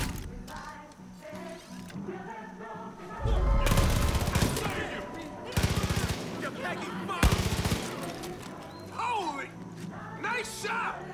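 Gunfire in the shooter game Far Cry 5, with loud bursts of rapid automatic fire in separate volleys, mixed with game voices and background sounds.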